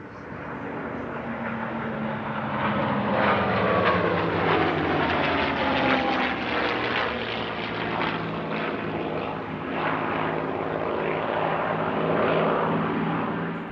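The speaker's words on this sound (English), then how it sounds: "The lead aircraft is P-47D Thunderbolt Nellie B, the only Thunderbolt currently flying outside North America." A P-47D Thunderbolt named Nellie B and a TF-51D Mustang warbird roar past at an airshow, their piston engines droning loud and steady with a rising and falling pitch sweep as they pass.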